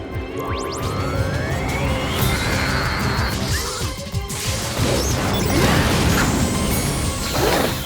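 Cartoon crash as a mutant is smashed by falling lights, with whooshing sweeps and rising tones before a loud clattering smash and rumbling debris.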